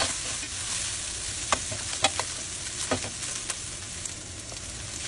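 Ground beef sizzling in a frying pan while being stirred, a constant hiss of frying punctuated by a few scraping stirs of the utensil against the pan, close and alone without speech.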